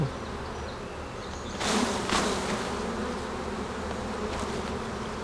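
A steady, dense buzzing of many bees close by, swelling briefly louder partway through, with no voices.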